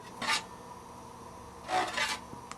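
A plastic battery backup case being cut down, heard as two short rasping strokes separated by a quiet pause, close and fairly soft, with a small tap at the end.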